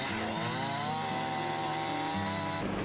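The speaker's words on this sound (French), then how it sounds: "L'écorçage est exécuté souvent à la tronçonneuse et sans protection." A chainsaw debarking logs in Vietnam drones steadily at high revs, its pitch wavering slightly as it cuts, then drops off abruptly near the end.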